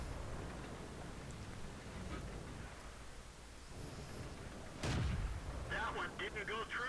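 Tank cannon fire in a video game, with a loud, sharp blast near the five-second mark that rings out over a steady bed of battle noise and rumble.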